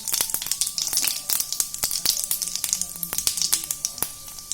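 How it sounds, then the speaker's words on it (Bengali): Cumin, fennel and other whole spices sizzle in hot mustard oil in a pan, a close, busy crackle with many sharp pops spread through the sound. "তেলটা গরম হয়ে গিয়েছে, দিয়ে দিচ্ছি জিরে,"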